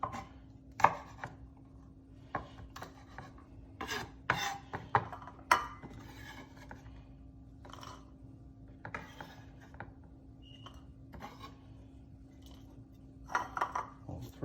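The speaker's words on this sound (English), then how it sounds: "Some of these bigger pieces I'll just cut into 2." A knife chops venison pieces on a cutting board, with irregular sharp close thuds in small bursts over a low steady hum, quiet pauses between cuts and no voices.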